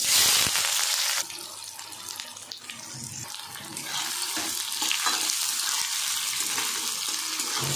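Chopped onion dropped into hot oil with bay leaves and dried red chillies for a dhaba-style tarka, a loud watery hiss at first that settles into a steady close sizzle.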